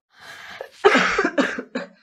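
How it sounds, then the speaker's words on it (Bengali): A feverish child coughs at close range in a short series of harsh bursts: a softer opening cough followed by three louder, separate hacks with brief pauses between them. "আজ এত কাশছো কেন?"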